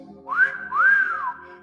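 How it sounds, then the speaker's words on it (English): A person whistles a short two-part rising and falling tune, clear and close, with no talking over it. "Makes you whistle."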